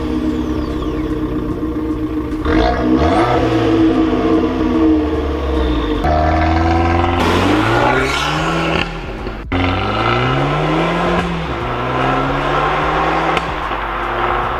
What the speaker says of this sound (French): là on va essayer l'accélération un petit peu pour voir ce qu'elle donne au niveau du son